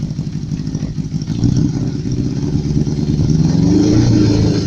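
A 1975 Honda CB400 Four Supersport four-cylinder engine runs close up, rising from a busy idle into a sustained rev with a dense, steady rumble and no talking.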